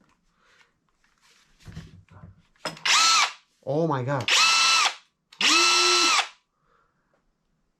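Kobalt cordless impact driver powered by an Ultimate battery, fired in three loud, close bursts of about a second each, with hammering tone and spin-down, after brief handling noise and a short exclamation.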